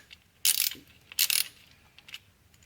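A ratchet fitted with a 10mm socket loosens an ignition coil screw on an Audi A4, giving two short bursts of quick metallic clicking close by, then a fainter tick in a quiet room.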